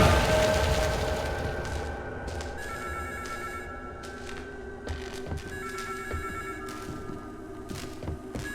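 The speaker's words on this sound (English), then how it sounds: "The phone rings in the dead of night, but no visitor in sight." A telephone rings at night inside a horror-style video game, its steady electronic bell repeating over a low, tense ambient drone with scattered sharp thuds.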